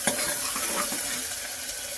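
Curry leaves and onion hit hot oil for lal masur dal, a loud, dense, crackling sizzle that stays constant and close throughout, with no voices.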